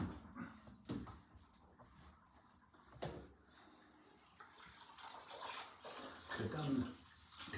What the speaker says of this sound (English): now we're going to drain the water